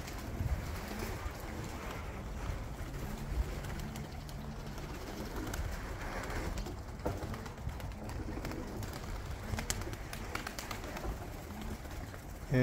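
Pigeons cooing in a loft as the flock returns, a steady murmur of soft coos and wingbeats under constant background noise, with no clear talk.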